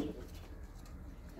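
Ankara tumbler pigeons of the smoky-grey (boz dumanlı) colouring coo softly in a loft, a faint, low, steady murmuring without talk.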